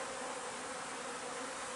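Honeybees buzz steadily and closely around a brood frame taken from a hive while splitting colonies, a dense continuous hum with no pauses throughout.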